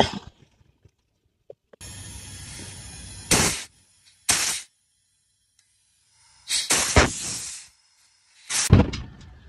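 Sharp bursts of hissing gas rush through the lines as a freshly replaced air-conditioning compressor's system is flushed, several separate blasts of varying length broken by quiet pauses, close and loud.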